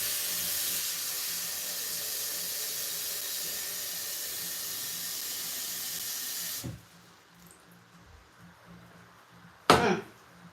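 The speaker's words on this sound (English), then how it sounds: "So we let the sweet potatoes steam." Sweet potatoes steaming in a pot give a loud, steady hiss of escaping steam for about seven seconds that cuts off abruptly, followed by near quiet and one short clatter near the end.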